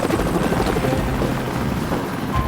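Steady, loud helicopter rotor thrum with dense low-frequency chopping and engine noise, continuous throughout, close by.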